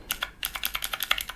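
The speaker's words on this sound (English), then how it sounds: "So you can select your time using the plus and minus buttons" Buttons on a Divoom Ditoo retro pixel art Bluetooth speaker with a keyboard are pressed in a quick run of about a dozen close, crisp plastic clicks, with no talk.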